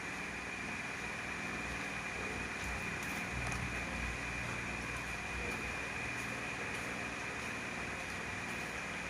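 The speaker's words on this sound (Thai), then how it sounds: "เสียงพัดลม" Electric fan running close behind someone indoors, giving a steady whirring hum with a constant airy hiss that continues without a break for the whole stretch.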